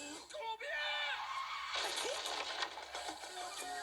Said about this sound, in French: De rage, Patrick ferme les yeux et se met à crier.